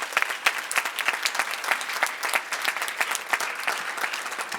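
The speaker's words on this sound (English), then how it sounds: "Can we give them one more round of applause?" Conference audience applauding the event staff at an awards ceremony, a dense, steady round of clapping with sharp individual claps standing out throughout, fairly close and full.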